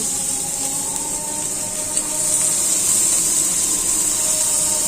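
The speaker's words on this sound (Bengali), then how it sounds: "একটু পেঁয়াজ ভাজবো।" Onions fry in a pan in a home kitchen, giving off a loud, steady hiss that swells slightly midway and continues unbroken with no talking.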